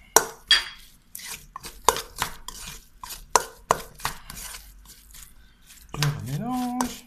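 Cauliflower and cheese croquette batter is mixed in a bowl with a utensil, giving a run of wet squishing strokes and soft scrapes in an uneven rhythm, followed by a brief spoken voice at the end.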